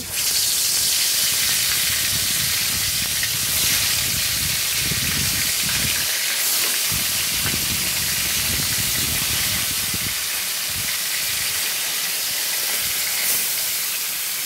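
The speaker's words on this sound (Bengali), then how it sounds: "কড়াইতে তেলও বসাই দিছি। এখন মাছগুলো ছেড়ে দিব ভাজার জন্য।" Fish rubbed with turmeric and salt frying in hot oil in a wok, giving a steady, loud broadband hiss and sizzle that runs without a break.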